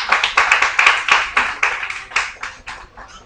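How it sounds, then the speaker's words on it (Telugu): Birthday party guests clapping in a loose, rhythmic burst of close hand claps that rise and fall steadily, with no talking over them. "గట్టి క్లాప్స్ అండి గట్టిగా ప్లీజ్"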